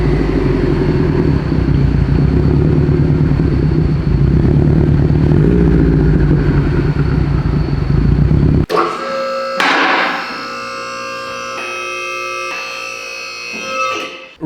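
A misfiring Subaru STI engine runs loud and lumpy at close range, then cuts off abruptly partway through, leaving quieter ringing and clattering sounds for the remainder.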